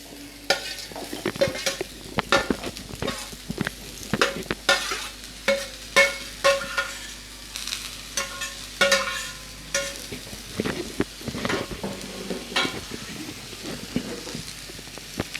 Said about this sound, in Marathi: आता त्याच कढईत कांदा आणि लसूण पण भाजून घेऊया।